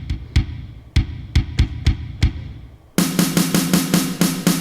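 Pads of a Boss Dr. Rhythm DR-660 drum machine are tapped at varying velocities, giving a series of uneven drum hits with some reverb, then switching to a brighter, denser run of snappy strikes.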